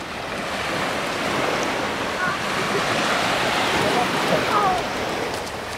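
Sea waves breaking on the shore at Palm Beach, Florida, in the evening, a steady, fairly loud wash of surf that rolls on without pause, mixed with a breathy hiss of wind.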